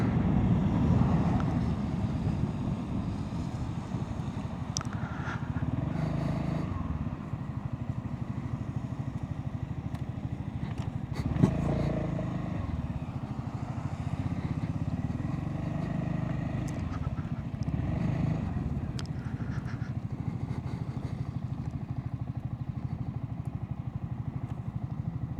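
A Honda ADV350 scooter engine hums at a steady low idle-like drone while the rider creeps along looking for parking, with wind buffeting the microphone and no talk.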